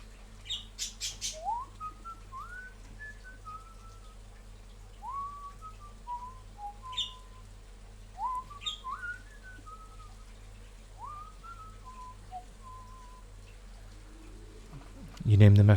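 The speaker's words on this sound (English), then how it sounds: "That's my birds." Pet birds kept indoors give repeated rising whistles and short squawks, fairly close and moderately loud, with occasional chirps between phrases and a brief muffled bump near the end.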